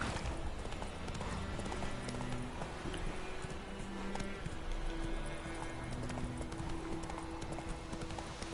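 In The Witcher 3, a horse's hooves clip-clop in a steady, even rhythm, moderately close, with soft background ambience and no talk.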